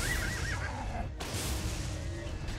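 A horse in the video game The Elder Scrolls IV: Oblivion gives a clear, wavering whinny that fades within a second, followed by a sharp thud and steady background noise.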